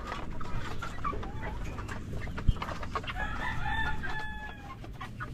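Backyard chickens cluck in a farm pen while a rooster lets out a long crow partway through, over a steady scratchy outdoor background with no talking.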